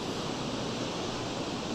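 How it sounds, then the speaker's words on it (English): Ithaca Falls in winter, partly iced, with water still pouring over: a brief, steady broadband rush of falling water, constant and unbroken. "There's the waterfall. And the waterfall hasn't frozen up again."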